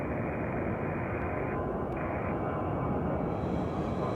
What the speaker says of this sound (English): It's the Airbus A320.